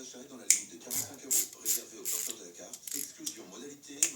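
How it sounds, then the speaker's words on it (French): A large ratchet wrench works loose the camshaft bolts on a Mini Cooper S R56 engine with quick, close ratcheting clicks in short bursts, and someone speaks over them. "Donc le grand cliquet qui va bien. Donc là, l'idée, c'est de débloquer déjà, voilà, les deux Arbacam."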